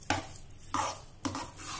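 Roasted gram flour being stirred into hot sugar syrup in a kadhai for Gujarati mohanthal, with three distinct scraping strokes in a steady rhythm, close and moderately loud with no voices.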